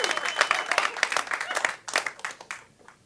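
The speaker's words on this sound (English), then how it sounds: "Everybody give a round of applause to Casey." Audience applause for a volunteer at a live show, a fairly near burst of clapping with crowd noise that thins and fades out over the last second.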